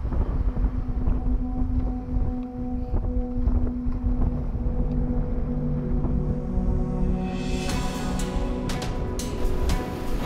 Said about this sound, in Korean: 겨울바람이 매섭다.